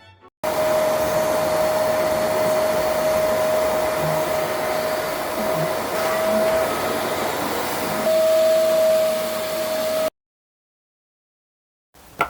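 A Silvercrest SPR 800 A1 wet vacuum cleaner runs loudly and steadily with a constant whine and roar for about ten seconds, then cuts off abruptly into silence.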